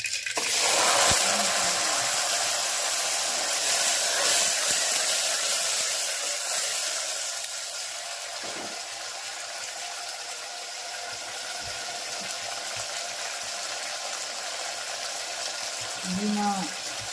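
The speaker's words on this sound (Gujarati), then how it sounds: "ટીટોલાનું શાક વઘારાઈ રહ્યું છે જોઈ" Kantola (spiny gourd) vegetable curry being tempered as mustard seeds, cumin and spices sizzle in hot oil, a steady close hiss and crackle that carries on throughout, with a few brief spits and pops along the way.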